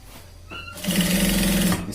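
An electric sewing machine stitches a shirt shoulder seam, a steady close whirring run that starts after a short quiet lead-in and holds for about a second before easing off.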